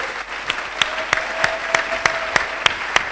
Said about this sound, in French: Mais est-ce que les frères, vous pouvez applaudir aussi?